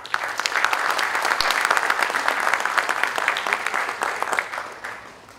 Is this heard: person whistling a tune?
no